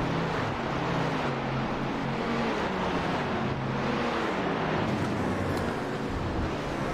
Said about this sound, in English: There's sound with the race cars